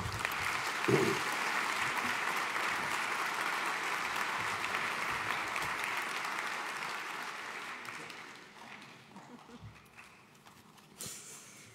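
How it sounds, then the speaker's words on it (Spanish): Audience applause at a World Oceans Day event, sustained clapping that stays full for several seconds and then thins and fades, ending with a few scattered claps and faint room noise. "un fuerte aplauso"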